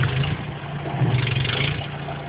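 Snowmobiles drive past during a blizzard, a muffled mid-pitched engine drone that swells slightly and holds, heard from a short distance through the storm with no talking.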